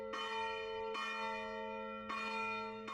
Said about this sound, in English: the ringing of church bells announced the election of new patriarch